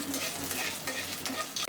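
Bay leaf and cumin sizzle as they temper in hot mustard oil in a pan, a bright, steady frying hiss with light stirring scrapes, heard close for a brief moment.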